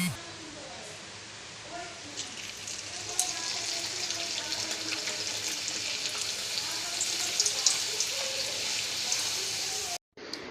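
Luchi, puffed Bengali bread, fries in hot oil with a steady, close, crackling sizzle that grows busier toward the end before a sudden cut. A voice talks faintly at times.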